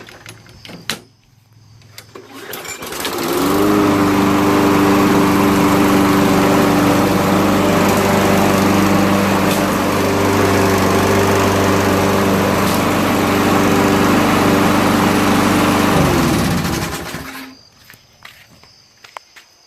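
A Toro Recycler self-propelled lawn mower with a Briggs & Stratton engine starts up and runs at a loud, steady drone with a clear harmonic hum for about fifteen seconds, then shuts off and winds down, close by.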